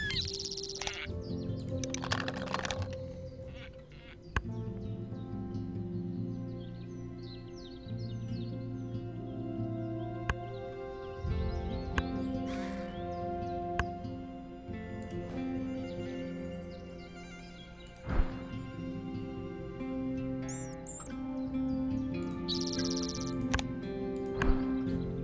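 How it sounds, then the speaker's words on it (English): A spotted towhee call plays as a digital effect in the Wingspan board game, a string of short chirps and trills over a steady musical bed with scattered clicks from table play. "Spotted towhee"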